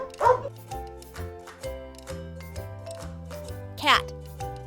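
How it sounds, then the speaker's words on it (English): A dog gives two short, sharp barks, one near the start and another near the end, over a steady, bouncy music backing in a children's farm-animal learning piece. "I am a dog."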